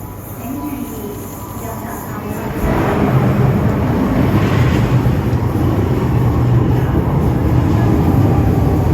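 An MTR CM-Stock M train pulls into a Hong Kong Island Line station, its steady rumble swelling louder about a third of the way through and holding at a close roar, with a faint voice briefly heard.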